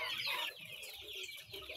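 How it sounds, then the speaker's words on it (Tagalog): Several white chickens cluck and chatter steadily at close range, with soft rustling mixed in and no talking. "Mga puti ni nga mga manok diri guys ilaha."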